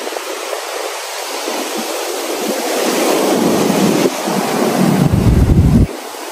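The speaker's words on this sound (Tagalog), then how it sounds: "Grabe ang lakas ng alon." Strong ocean waves crash and surge during a typhoon, roaring continuously up close and growing heavier toward the end, while gusting wind buffets the microphone.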